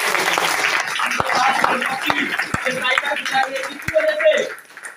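Scattered claps from a meeting audience, sparse and uneven, under a man's continuing speech with a little laughter.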